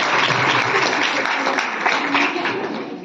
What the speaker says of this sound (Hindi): एक बार हैप्पी आनंद के लिए जोरदार ताली।